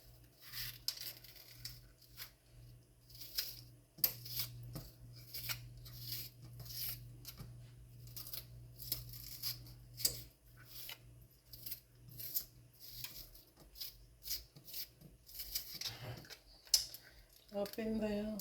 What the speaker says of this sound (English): I'm gonna cut up a little bit of onion